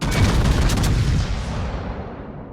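Naval guns firing armour-piercing shells in a warship battle game, a heavy close boom that rolls off into a long fading rumble.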